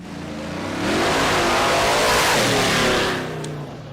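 A truck engine in Texas revs hard and accelerates, the loud roar swelling over the first second, holding strong, then easing off toward the end, with no voices.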